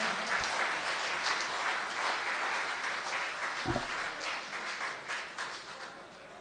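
A school audience claps together for a welcome at a poetry gathering (kavi sammelan), a broad, steady burst of applause that holds for several seconds and eases slightly toward the end.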